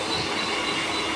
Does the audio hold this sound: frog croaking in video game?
no